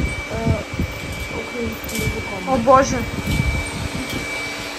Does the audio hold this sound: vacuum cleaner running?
yes